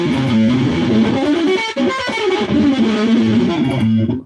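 A distorted electric guitar through an effects unit runs up and back down a melodic minor scale in A, in steady, evenly spaced notes played close and loud with no talking.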